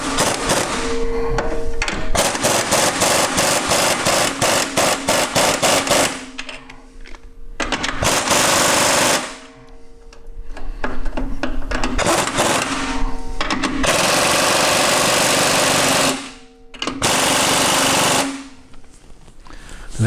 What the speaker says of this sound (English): we're going to go ahead and wind those clamps up with our impact